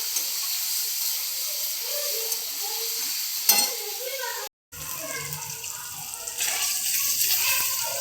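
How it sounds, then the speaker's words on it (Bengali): Paneer fries in oil with salt and turmeric in a pan, giving a steady bright sizzle, with stirring and scraping, a brief break, then continued frying as someone speaks over it. "এর মধ্যে একটু লবণ, হালকা লবণ দিচ্ছি, আর একটু হলুদ দিয়ে ভেজে নেব লাল করে।"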